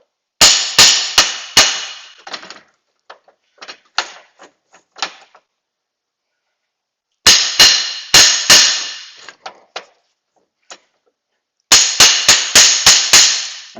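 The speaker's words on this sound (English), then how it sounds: "You're driving the cap all the way out so the snap ring is seated." Hammer blows driving a U-joint cap out of a yoke held in a vise, sharp metallic strikes in three rapid bursts with lighter scattered taps and silent gaps between.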